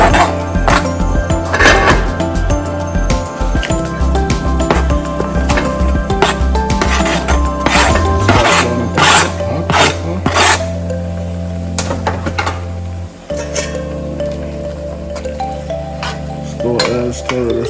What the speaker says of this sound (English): I got some onions, scotch bonnet pepper, scallion, and pepper. Go ahead and add it all.